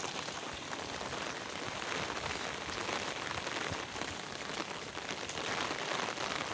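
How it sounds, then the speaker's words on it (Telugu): Dense, steady downpour drumming on surfaces in Mahabubabad, with roads flooded, a constant wash of heavy rain with no voices. "మీ దగ్గర కూడా ఇంతే వర్షం ఉందా"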